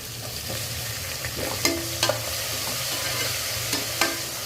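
Chopped onions frying in hot oil in a home kitchen pan for vegetable biryani, with a steady close sizzle and a few sharp scrapes and clinks of a spoon stirring against the pan.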